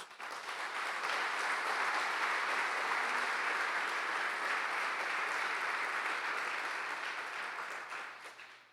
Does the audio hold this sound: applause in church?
yes